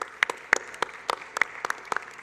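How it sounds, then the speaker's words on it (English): An audience at an innovators' pitch competition claps for the winners as they come up. The claps are scattered and irregular, crisp and fairly close, and sound more like a modest crowd than a roaring one. "Another big round of applause for them."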